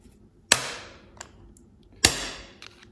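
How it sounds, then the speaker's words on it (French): Two sharp metallic taps of a small hammer striking a flat screwdriver against a GasGas trial motorcycle engine, spaced about a second and a half apart, each ringing briefly, with faint softer knocks between. "On peut le faire avec un petit marteau et un petit tournevis plat."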